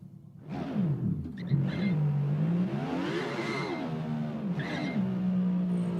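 Car rolling in a video game, its engine giving a rough, wavering synthetic whine that rises and falls in pitch, fairly close and with nothing else over it.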